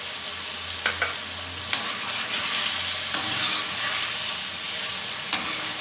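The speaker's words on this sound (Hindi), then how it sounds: "इसको अच्छी तरह हिला लें।" Peshawari-style chicken karahi sizzles steadily in a pan under a constant frying hiss, with several sharp clinks and scrapes from stirring scattered throughout.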